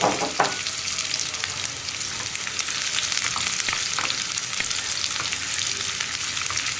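Chopped onions dropped into hot oil crackle and sizzle loudly in a pan for a Kerala pulissery, a dense, steady frying hiss close up with a few stirring scrapes, no speech.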